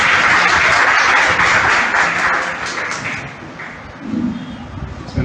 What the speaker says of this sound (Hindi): तो एक जोरदार तालियों से सर का स्वागत किया